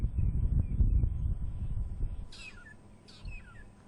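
Long-tailed shrike calling on a morning safari drive in Karula, two short bright whistled calls in the distance after a low rumble of the vehicle and wind fades.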